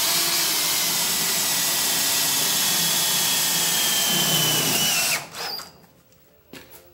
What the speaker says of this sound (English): I'm going to zing it in with a self-drilling screw.